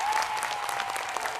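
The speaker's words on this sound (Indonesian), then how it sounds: "Tepuk tangan buat ini bareng" Audience applause breaks out at a lively Indonesian comedy talk show, a steady wash of clapping from a studio crowd that holds through the whole moment without pause.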